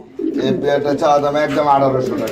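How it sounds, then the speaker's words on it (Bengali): Female pigeon at a bird market, with a close, loud run of throaty, rolling coos lasting a couple of seconds and a human voice nearby. "এটা হচ্ছে মাদি কবুতর"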